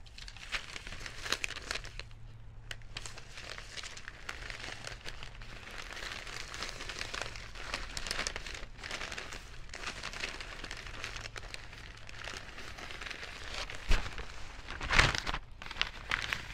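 A plastic grocery bag crinkles and rustles steadily while a houseplant is wrapped for air travel, close and fairly quiet, with a few sharper crackles toward the end.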